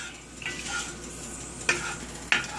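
Clove pieces and other whole spices heat in hot oil in a pan, giving a continuous sizzle broken by a couple of sharp, distinct pops.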